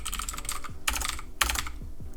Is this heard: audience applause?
no